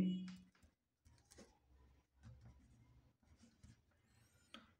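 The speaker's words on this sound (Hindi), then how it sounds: "तो अब लिखेंगे" A pen scratches across paper in short irregular strokes, faint and close, with small pauses between bursts of writing during a math exercise.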